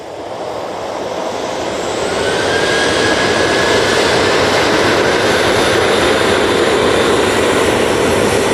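TUI passenger jet at Manchester Airport spooling up its engines, a loud broadband roar that swells over the first few seconds and then holds steady with a faint rising whine on top.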